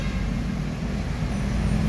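An ANS Royal Class bus pulls into a bus terminal, its engine a steady low rumble close by amid traffic noise, with no speech over it.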